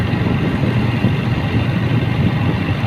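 A motorbike engine drones steadily while riding at night across a long bridge over the sea, a continuous low rumble with road and wind noise and no talking.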